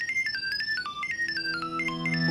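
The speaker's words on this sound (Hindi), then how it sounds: "फोन" A phone plays a bright melodic ringtone, a quick run of electronic notes that repeats steadily and sounds close and clear, with no voices over it.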